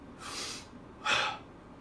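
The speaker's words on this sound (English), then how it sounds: "It's a strong breath." Two strong breaths of Wim Hof method breathing, a deep forceful inhale followed by a sharper exhale, close and breathy with nothing else around.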